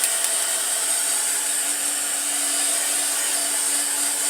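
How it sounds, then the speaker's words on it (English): A hair dryer blows steadily and close by, a continuous broadband whoosh with a faint motor hum that holds level throughout, with no voices over it. "Shouting over the dryer."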